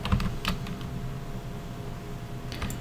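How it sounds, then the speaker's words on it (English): Quick, light clicks of a keyboard and mouse while playing Minecraft, close and fairly quiet, coming in scattered bursts with short pauses between them. "You're probably hearing all the clicking I'm doing and being very irritated by it."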